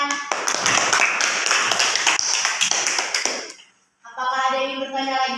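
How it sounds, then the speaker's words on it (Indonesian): Students in a classroom burst into applause, a dense run of many hands clapping for about three and a half seconds, then a brief pause before another sustained sound follows. "Teman-teman silakan beri tepuk tangan."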